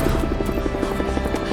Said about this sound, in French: L'hélicoptère?